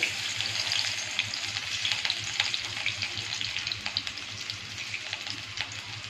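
Garlic frying in oil with salt and turmeric for a dried-fish chutney, a busy, crackling sizzle with scattered pops and light stirring, steady and close throughout.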